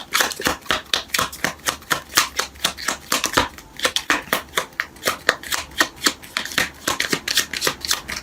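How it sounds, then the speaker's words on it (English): A deck of tarot cards is shuffled up close in a quick, even rhythm of crisp riffling flutters, about three per second, with no talking. "So while I'm shuffling"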